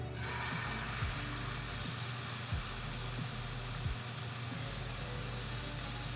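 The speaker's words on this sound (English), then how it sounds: "we're going to take our venison and we're going to add it to our pan" Venison pieces searing in hot olive oil in a pan, giving a steady loud sizzle and hiss throughout, with a few soft thuds and scrapes of the meat being moved.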